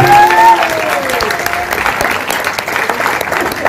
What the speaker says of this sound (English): Oh yes, big applause!